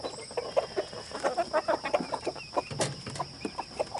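Juvenile chickens in a new coop, a steady run of close, rhythmic clucks and soft chirps from several birds, moderately loud with no talking.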